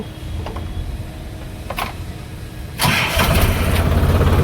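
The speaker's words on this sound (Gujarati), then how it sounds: "ટ્રેક્ટરને કરી દે ચાલુ" A tractor engine cranks and catches partway through, then settles into a loud, steady low chugging idle nearby.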